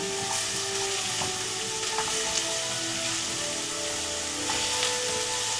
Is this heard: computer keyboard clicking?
no